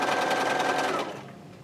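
A sewing machine runs a quarter-inch seam through quilt fabric in one loud, even burst of rapid stitching that slows and fades out near the end.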